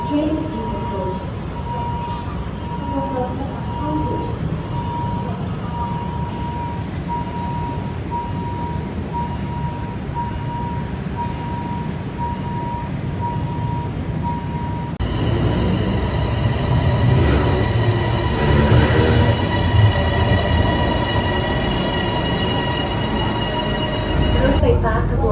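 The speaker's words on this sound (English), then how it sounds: "Attention please, a train is approaching." A Bangkok airport rail link train rumbles steadily, then grows louder with a rising whine and screech as it pulls in, while public announcement voices sound over it.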